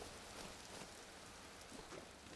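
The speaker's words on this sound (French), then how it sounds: "Ah, la pluie, oh non" Steady rainfall in the survival game Vintage Story, a soft continuous hiss of drops spread evenly across the whole stretch with no voices and no thunder.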